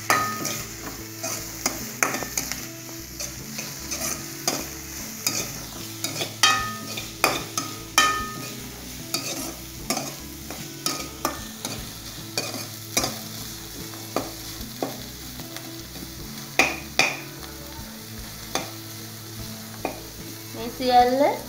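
Vegetables with chili and curry leaves sizzle steadily in a pan for noodles, while a utensil stirs and scrapes through them in repeated clinks and knocks.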